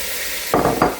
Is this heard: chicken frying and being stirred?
yes